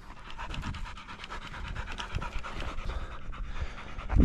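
A hunting dog pants hard and fast after a long chase of an aggressive wild boar, the rapid, steady breaths close and continuous for several seconds with no talking.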